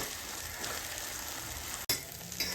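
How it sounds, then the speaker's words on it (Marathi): Sweet corn kernels roast in a pan over a medium gas flame, giving a faint, steady sizzle and crackle with a brief clatter of stirring near the end. "व्यवस्थित शेकवा आणि मीडियम गॅसवर शेकवा"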